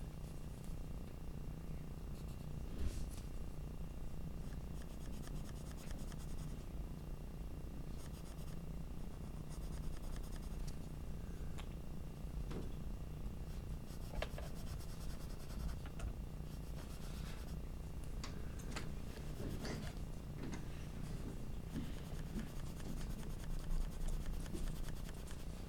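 A graphite pencil scratches parallel lines across paper, a soft steady scraping with occasional sharper strokes, very quiet and close with no voices.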